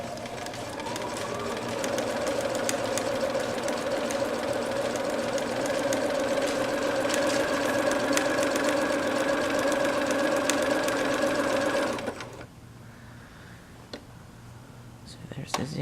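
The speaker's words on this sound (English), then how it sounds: "So there's the zigzag and the straight stitch." Sewing machine running steadily, stitching zigzag and straight stitches, a loud close mechanical hum with fast rapid knocking that runs for about twelve seconds and then stops abruptly, leaving quiet room sound.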